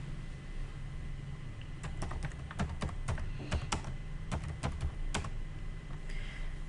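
Typing on a computer keyboard, a quiet room with a run of close, irregular key clicks that start after a short pause, bunch together and then thin out, no voices.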